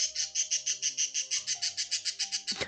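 Pet bird chirping in a fast, steady run of about fifteen sharp, loud repeated calls, close by, ending in a harsher squawk, with no talking.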